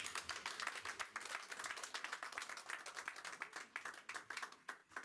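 An audience applauds at a French tribute evening honouring Mitch Zeline as Maggie Ramassamy, president of the association Sous les Tropiques de Méru, comes forward: a few seconds of quick, uneven clapping, fairly faint and alone, without talk.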